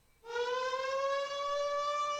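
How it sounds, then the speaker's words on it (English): A civil-defense style siren from the video game Code: Realize starts abruptly and holds a steady, loud, slightly rising wail, signalling the start of a mission, with no voices. "A siren goes off to signify the start of the mission."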